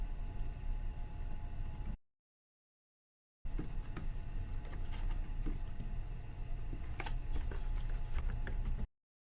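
A PS4 controller is popped free of its plastic packaging close to the microphone, giving loud crinkling, clicking and snapping plastic sounds in bursts, with a brief silent gap partway through.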